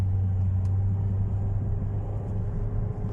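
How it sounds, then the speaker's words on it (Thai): A Ford Fiesta with a gearbox stuck and refusing to shift drones at high revs, giving a loud, constant engine rumble with a steady low hum and no voices. "นี่นะครับเราลากรอบขึ้นไปนะครับท่านผู้ชม นะครับ เสียงเครื่อง ดังกระหึ่มแล้วนะครับ"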